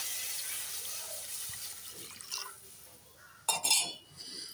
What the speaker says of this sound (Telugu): ఇప్పుడు ఇదే మూగుడు నేను పొయ్యి మీద పెట్టుకుని నీళ్ళు అయితే పోసుకున్నానండి.